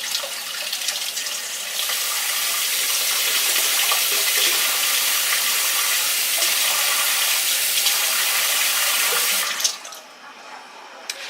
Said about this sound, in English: Add a little bit of hot water.